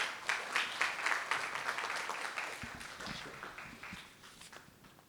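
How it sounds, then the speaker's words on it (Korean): Audience applause greets a guest speaker at a Catholic peace institute event: a modest, fairly faint patter of clapping that fades toward the end. "박수로 맞아주시기 바랍니다."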